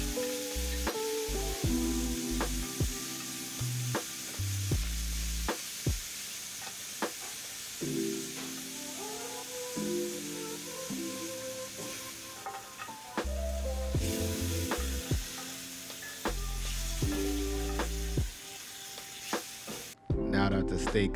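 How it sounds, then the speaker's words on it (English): Vegetables sautéing in the fond left from a seared NY strip steak, a steady close sizzle with occasional stirring taps, running under background music throughout. "continue to saute the vegetables in the fond"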